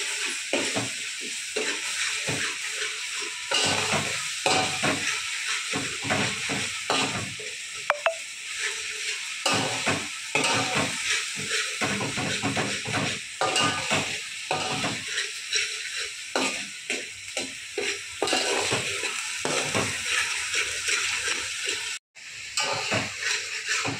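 Onion and tomato for a crab bharit sizzle steadily in a pan, a continuous close hiss broken by frequent stirring scrapes and clinks throughout.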